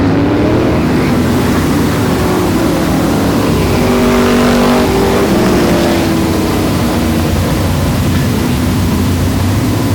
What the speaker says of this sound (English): Nothing like seeing modified racing. Open wheels, Nerf bars, tons of horsepower, lots of sound